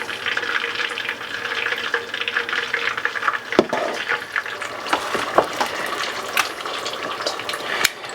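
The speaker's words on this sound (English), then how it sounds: "let this come back up to 375. We'll fry the rest of them." Korean-style chicken wings deep frying in hot oil, a steady dense bubbling hiss with occasional sharper crackles and pops, close and continuous throughout.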